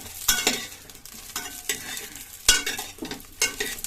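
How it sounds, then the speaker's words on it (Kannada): Brinjal (eggplant) pieces frying in hot oil while being stirred: a steady sizzle broken by repeated scraping stir strokes at an uneven rhythm, close and fairly loud, with no talking. "ನೀವು ಈ ರೀತಿ ಫ್ರೈ ಮಾಡ್ಕೋಬೇಕು ನೀಟಾಗಿ. ನೋಡಿ ನೀಟಾಗಿ ಫ್ರೈ ಆಗ್ತಿದೆ."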